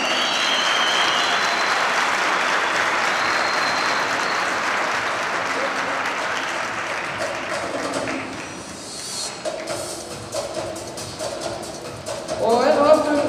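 A large audience at an Icelandic horse show claps steadily for a group of horses, a dense sustained applause that thins toward the end while an announcer speaks over it.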